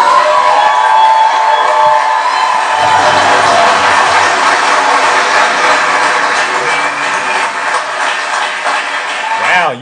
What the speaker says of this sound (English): That was a big round of applause, all right?